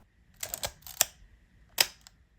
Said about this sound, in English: you've obviously got to advance your film on your Leica M7